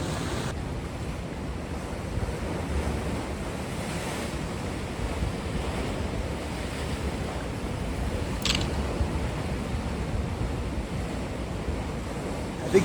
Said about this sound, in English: I think the tide's coming in and I'm out on these rocks.